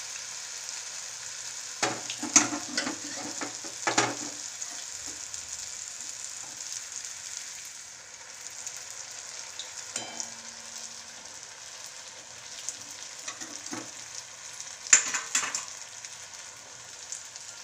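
Maida-batter rose cookies (murukku) deep-frying in hot oil give off a steady, soft sizzling hiss, with a few louder bursts of bubbling and clinks as the mould goes in and comes out.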